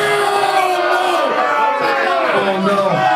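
A wrestling crowd at an ROH championship match between Davey Richards and Kyle Matthews chants loudly and steadily, many voices massed together close and full throughout.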